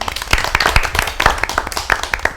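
A small audience claps for guests in an episode about building a website for lab practicums, with distinct, uneven hand claps close by and loud, continuing steadily for a couple of seconds.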